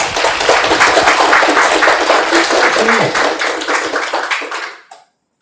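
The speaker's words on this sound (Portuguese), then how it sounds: "dê um aplauso ao Senhor" Loud, dense congregational clapping during a church worship meeting, a continuous round of many hands that fades and cuts off abruptly near the end.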